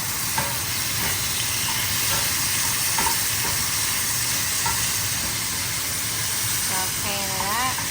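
Steak tips and garlic sautéing in butter in a pan, a steady broadband sizzle with scattered crackles and stirring scrapes throughout, fairly close and loud, with a brief voice near the end.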